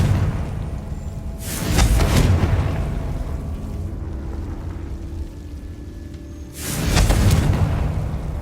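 Two heavy booming blasts from the Confringo fire spell in Hogwarts Legacy, each a loud rumbling explosion that swells and fades, separated by several seconds of low ambient background.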